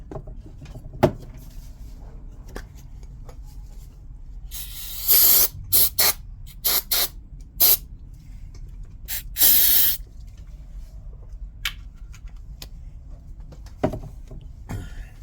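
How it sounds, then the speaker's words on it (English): Several short hissing bursts of aerosol spray cleaning a flywheel keyway on a Brother 212 engine, the longest lasting about a second, separated by quiet gaps with faint clinks and taps. "I'll even spray it out a little bit."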